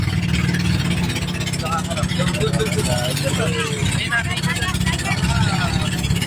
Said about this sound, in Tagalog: Dalawang engine pala to, double engine. So, maingay kasi malakas pala to, double engine.